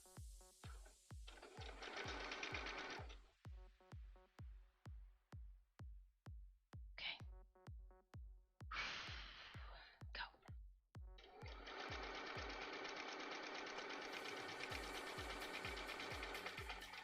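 A sewing machine runs in short bursts of rapid, regular mechanical stitching close by, with pauses and rustling between, then one longer steady run at the end.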